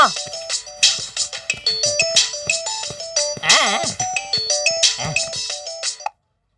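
A mobile phone ringtone plays a loud, bright electronic melody of stepping tones in a Kannada comedy film scene, ringing steadily for about six seconds before cutting off abruptly.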